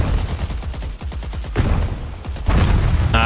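Battle din in the war strategy game Ratten Reich while a grenade is thrown at an entrenched gunner: rapid machine-gun bursts rattle in the first half, then louder blasts and dense gunfire take over.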